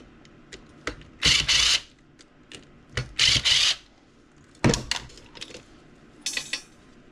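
Screws being backed out of a marine radio's microphone piece, with scattered metallic clicks and ticks and several short rasping bursts of a driver turning, close up and with no talk.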